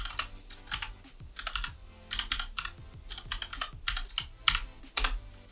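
Fast, close typing on a computer keyboard, a continuous run of crisp key clicks in uneven bursts with no voices.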